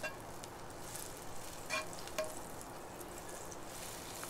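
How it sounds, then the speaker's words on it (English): Salted butter melts in a cast iron skillet with a faint, steady sizzle and a couple of soft pops, low and close throughout. "Just wanna get this melted in my cast iron skillet."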